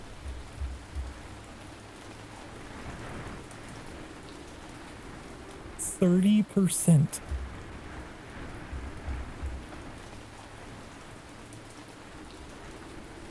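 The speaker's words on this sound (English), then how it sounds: "Some loud ass rain, isn't it?" Loud, steady rain pours throughout a scene in the video game Ancient Cities, a dense, constant hiss, with a brief louder burst of game sounds near the middle.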